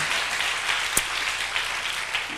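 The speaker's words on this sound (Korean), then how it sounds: "자, 우리 주님께 박수를 한번 영광 돌리겠습니다." A church congregation applauding, a dense, steady wash of clapping from many hands throughout, with one brief sharper knock near the start.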